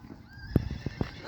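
A horse gives a short, close whinny in a few sharp bursts, with faint hoof movement around it.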